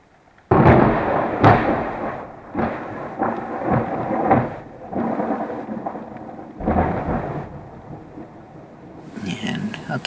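A close lightning strike cracks suddenly during a windless thunderstorm, followed by heavy rolling thunder that booms and rumbles in waves for several seconds, with steady rain underneath.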